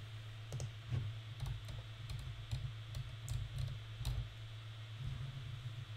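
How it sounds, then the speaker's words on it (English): Computer keyboard keys pressed in irregular bursts of sharp clicks and taps over a steady low hum, quiet and close, with no voices. "You can probably hear me hitting the keys, trying to jump, trying to move left and right"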